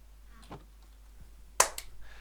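A single sharp clap rings out near the mic, with a quick echo, against quiet room tone.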